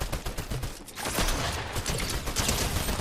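Rapid gunfire from Fortnite Battle Royale rattles in dense, close bursts, with a brief lull before the shooting resumes and carries on to the end.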